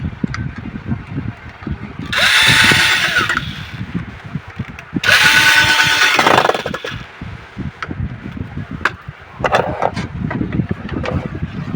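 A power tool, likely a drill, fits two nuts into a home theatre unit during a repair, running in two short loud bursts of about a second each over a clattery background of handling noises.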